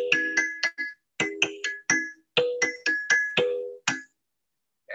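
A kalimba struck with a mallet plays a quick, rhythmic run of bright plinking notes in short bursts with brief pauses between.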